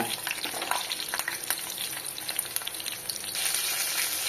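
Green chilies fry in a pan with a close, steady crackling sizzle and occasional stirring scrapes, the spattering growing slightly louder near the end.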